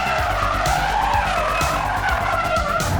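Cars do burnouts and drift at the Ford display at SEMA 2021, tires squealing loudly and continuously over roaring engines that rise and fall in pulses.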